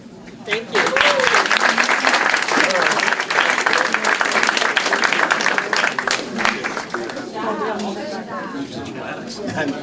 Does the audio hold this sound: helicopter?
no